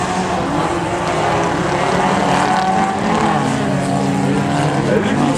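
An autocross race car with a full exhaust system drones steadily at a dirt-track autocross event, a continuous loud engine note that rises and shifts slightly in pitch as it passes.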